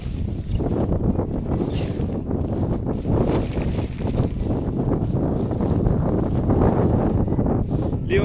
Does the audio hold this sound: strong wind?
yes